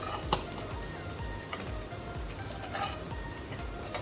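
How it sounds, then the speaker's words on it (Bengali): Bread burger patty frying in a pan with little oil until crisp, a steady soft sizzle with occasional faint stirring ticks, close and alone with no talking. "এই যে ভাজা হয়ে গেল, এখন এটা মচমচা একটু করে হলে আমি নামিয়ে নেব।"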